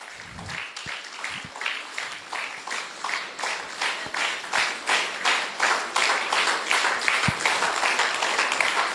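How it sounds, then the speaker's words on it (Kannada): Loud rhythmic applause from an audience welcoming a guest onto the stage at a live program in Belgaum, steady clapping that builds and continues throughout. "ಅವ್ರು ಬರ್ಬೇಕಂದ್ರೆ ಜೋರ ಚಪ್ಪಾಳೆ ಬೇಕು"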